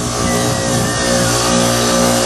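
A cheap fan motor on a 2008 Goodman heat pump runs in a steady, loud, close hum with a constant tonal drone and no talking over it.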